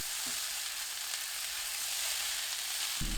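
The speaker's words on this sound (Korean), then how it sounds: "달군 팬에 식용유 1큰술, 양파, 애호박, 어묵, 다진 마늘 1큰술 넣고 중불로 1분 40초 볶습니다." Onion, zucchini, fish cake and minced garlic stir-frying in a tablespoon of oil in a preheated pan over medium heat, a dense continuous close sizzle with a brief knock near the end.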